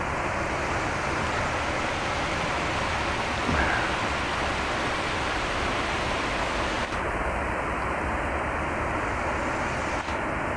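Rapids on the Great Miami River rush in a constant, dense roar of water, steady and fairly loud with no talking.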